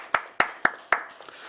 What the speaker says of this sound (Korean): 사랑의 아버지 하나님께 감사 영광의 박수 올려드리겠습니다